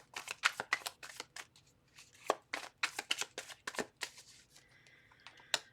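Tarot cards are shuffled close by in a rapid series of crisp riffling bursts and taps, irregular in rhythm, with no talking.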